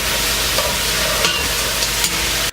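Carrots, onions and celery fry in beef fat in a pot for brisket, giving a steady, dense sizzle with faint stirring clatter, close and fairly loud throughout, without talk.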